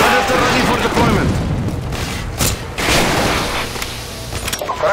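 An airstrike in the video game Call of Duty MW2 lands as a string of heavy booming explosions with rumbling bursts, loud and close, over a speaking voice.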